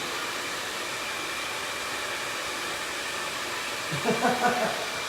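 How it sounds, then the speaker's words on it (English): A blow dryer drying hair during a medium-length haircut gives a steady, loud rushing whir, with a voice briefly speaking over it near the end. "when the blow dryer is on"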